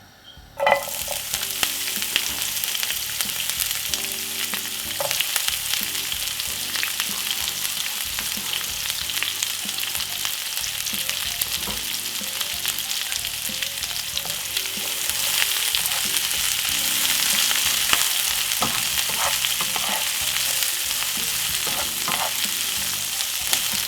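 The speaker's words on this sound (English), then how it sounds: "Just saute them off for about 2 to 3 minutes." Chopped carrot and peppers sizzle steadily in a hot pan for Jamaican escovitch fish, a dense, even frying hiss with occasional stirring clicks, growing slightly louder partway through, with no talking.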